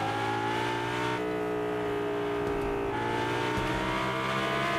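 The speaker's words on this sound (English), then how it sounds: "There's another car right next to us." Car engine in the Fortnite video game hums steadily with revving shifts and a brief gear change, moderately loud with no talking.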